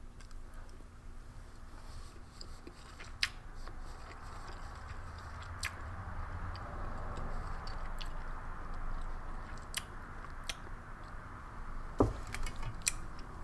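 Someone chews a mouthful of glossy rice from an American MRE ration (chicken with cavatelli menu), with soft, close, continuous chewing and occasional sharp clicks, all quiet and without talk.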